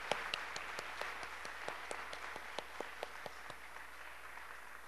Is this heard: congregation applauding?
yes